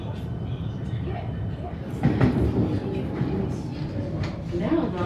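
A suburban train on the line to Frankston runs between stations, a steady low rumble and rattle of wheels on track with a brief louder clatter partway through, heard from inside the carriage.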